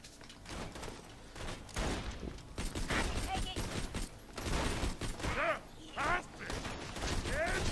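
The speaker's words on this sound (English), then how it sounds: "There, my wee fire pistol will do the job." Rapid bursts of a fire-element pistol in Borderlands 2, with crackling shots and mechanical clicks amid busy game effects, some rising whistling tones, and a voice talking over the action.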